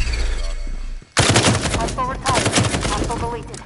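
Loud, rapid bursts of automatic gunfire from the video game Firewall crack after a brief lull, with overlapping shots and rattling rounds close up.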